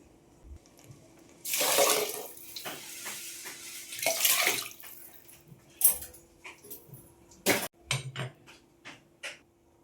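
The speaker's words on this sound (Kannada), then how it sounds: "3 ಗ್ಲಾಸಷ್ಟು ನೀರು ಹಾಕ್ಕೊತೀನಿ" Water splashes into a cooking pot for mint pulao in bursts of pouring, with several short splashes and drips toward the end, close by and fairly loud against a quiet background.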